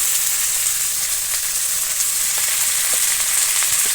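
Washed potato and eggplant pieces fry in a pan with lightly browned onions, giving a loud, continuous, even sizzle that holds steady throughout with no talking.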